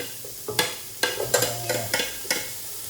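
Onions, added together with garlic, fry in a pan and are stirred: a steady sizzle broken by roughly seven sharp spatula scrapes and clacks at uneven intervals, close and fairly loud, with no talking.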